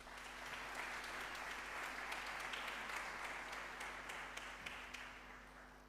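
A hall audience at the opening ceremony of an international voice competition gives a sustained round of applause for the jury members and candidates, dense clapping at even volume throughout over a low steady hum.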